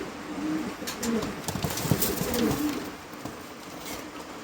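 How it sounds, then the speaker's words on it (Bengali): Pigeons coo softly nearby in low, repeated throaty phrases over a faint hum of background noise. "দেখার মতন এক জোড়া কবুতর"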